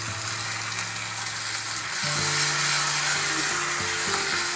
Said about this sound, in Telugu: టమాటాలు వేస్తున్నాను